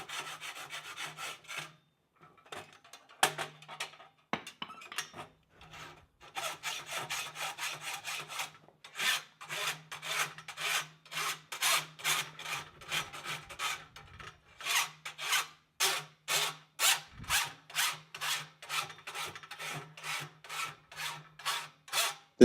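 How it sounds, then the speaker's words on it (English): An old farrier's rasp files the hoof side of a RAZER horseshoe for a standardbred, starting with a few scattered scrapes and building into a steady run of rhythmic, close, gritty strokes. "Conny will use an old rasp to remove any humps from the hoof side of the shoe"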